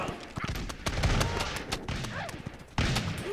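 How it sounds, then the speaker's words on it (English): Volleys of blunderbuss fire crackle through a chaotic video game battle, with repeated sharp shots scattered across the whole clip and a louder burst near the end. "we're firing the last of our shots"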